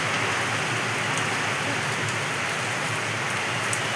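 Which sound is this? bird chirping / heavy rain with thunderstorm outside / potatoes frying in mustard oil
heavy rain with thunderstorm outside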